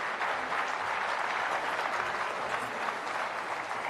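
Steady, dense applause from an audience at a Geeta Parivar gathering in Tirupati, sustained and even throughout without pauses or speech.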